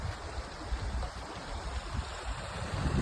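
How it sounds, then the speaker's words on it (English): A small winter stream on a ski trail in Baxter State Park runs with a steady, faint wash of water, continuous and unbroken with no voices over it. "There's something about running water in the wintertime."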